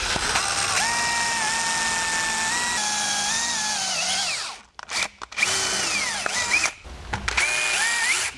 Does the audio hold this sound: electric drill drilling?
yes